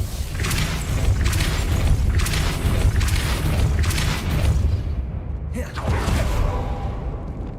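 Depulso spell cast in Hogwarts Legacy: loud, dense booming magical blasts and whooshes with heavy low rumble, a series of surges ending in a sharp burst and fading roar.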